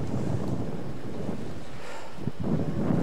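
Strong gusting wind on a very cold day buffets the microphone in a loud, continuous roar with rumbling surges and no voices.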